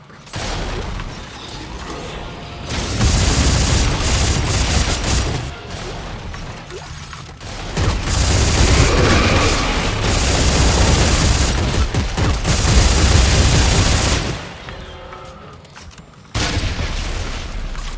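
Dense, loud automatic gunfire and mechanical clatter in the Dead Space 3 video game, sustained bursts broken by short pauses, with booms mixed in and no talking.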